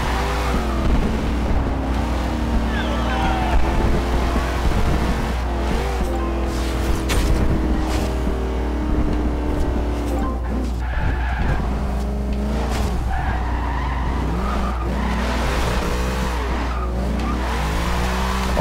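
A 1957 Chevy Bel Air with a drift/drag build slides through a drift in Forza Horizon 2, its engine roaring steadily as the tires squeal continuously, loud and close throughout.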